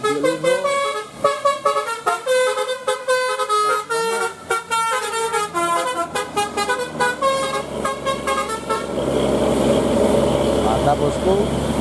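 A bus telolet Basuri musical horn plays a loud, rapid tune of bright stepped notes close by, then gives way to a rushing engine and crowd noise, with voices heard throughout.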